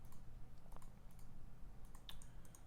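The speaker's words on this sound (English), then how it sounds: "Am I typing it in wrong?" Typing on a computer keyboard while programming, with rapid irregular clicks in short bursts and pauses, close and steady over a low hum, no talking.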